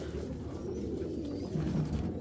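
Male red checker racing pigeons give low, soft cooing calls, repeated and partly buried under steady background noise.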